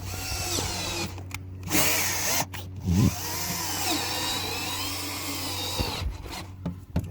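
Tap being turned by hand into an aluminum hole for a diving board surface mount, a steady grinding, rubbing churn with brief pauses and a squeak as the tool is reversed, close and continuous.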